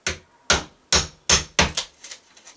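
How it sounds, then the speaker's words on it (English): A long-handled framing hammer strikes repeatedly while a door is being hung. About five sharp, evenly spaced blows land close by, followed by several lighter, quicker taps, with no talking. "Would they call it a framing hammer?"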